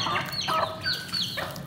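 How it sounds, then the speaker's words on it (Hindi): Chickens eating scattered feed give short, soft clucks and murmurs close by, several overlapping calls over a quiet background. "देखिए, मुर्गियाँ खाना शुरू हो चुकी हैं।"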